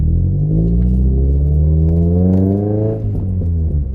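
A Toyota MR2 engine breathing through a loud Toyosport aftermarket exhaust, a close, deep, steady rumble with the revs rising gradually and dipping briefly near the end.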